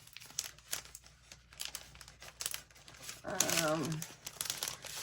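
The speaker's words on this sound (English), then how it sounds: "But I like to put these in a clear bag." A clear plastic bag crinkles and rustles close by in an intermittent, scratchy way while a person talks over it, louder crinkling swelling toward the middle.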